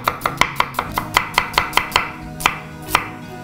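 Two onions sliced with a knife for spicy turai sabji: a quick, steady run of sharp, close chops that slows into a few spaced strikes near the end, with no talking.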